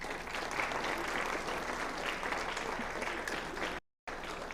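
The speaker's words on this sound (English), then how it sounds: "Students, applaud your supporters." Audience applause at a youth citizenship awards ceremony, a steady dense wash of clapping from many hands throughout, broken by a brief silent gap near the end before resuming.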